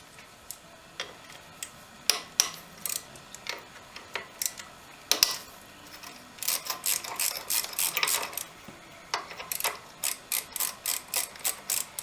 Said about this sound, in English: we got a couple of bolts here we got to take out. I believe these are all 10mm.